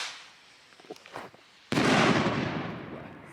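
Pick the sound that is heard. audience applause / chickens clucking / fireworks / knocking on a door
fireworks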